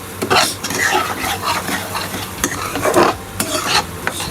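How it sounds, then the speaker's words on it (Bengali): A spoon stirs prawn malaikari masala in a pan, scraping and clinking against the metal in irregular strokes over a soft sizzle, close and fairly loud with no talk. "এটা ভালো করে হালকা মিক্স করে নেবো এটাকে।"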